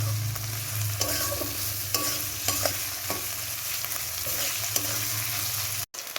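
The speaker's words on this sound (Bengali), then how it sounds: "এই দেখো আদা রসুনটাকে ভালো করে ভেজে নিয়েছি।" Grated ginger and garlic fry in a pan with a loud, close sizzle, while a utensil stirs and scrapes against the metal in irregular clicks and knocks throughout, and no one speaks.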